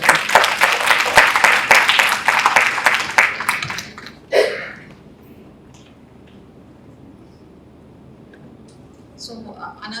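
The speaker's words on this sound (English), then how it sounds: "can we have a big round of applause for them?" Workshop audience breaks into applause, a dense burst of clapping for about four seconds, then fading to a quiet room with faint rustling.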